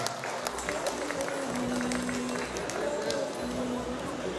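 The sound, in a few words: applause for the Chaser film team at audio launch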